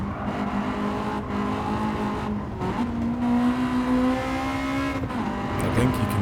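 Honda Type R VTEC engine lapping the Nürburgring, a continuous loud rev with a rising tone that climbs, drops at shifts and climbs again, close and alone without voices.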